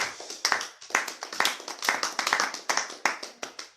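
A congregation in church clapping to acclaim the word of the Lord, sharp irregular handclaps from a small group, close and fairly loud, continuing throughout.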